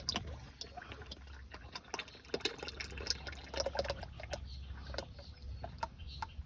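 Engine oil drains from a Cat D6B dozer into a container in a steady liquid pour with dripping, moderately close, while outdoor noise and faint bird calls sound in the background.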